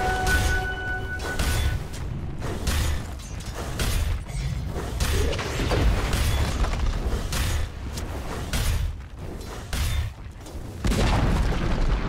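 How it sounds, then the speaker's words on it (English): Dota 2 combat as towers come under attack: repeated booming hits, mechanical clanks and whooshing ability effects pulse in uneven bursts, dense and mid-loud, with brief drops between strikes. "Dire's middle tower is under attack. Dire's top tower is under attack."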